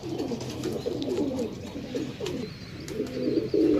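Desi Sialkoti Fransa pigeons coo in repeated low, rolling phrases close by, a steady run of throaty calls with faint chirps and light rustle in the background.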